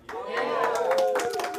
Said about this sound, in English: An applauding crowd.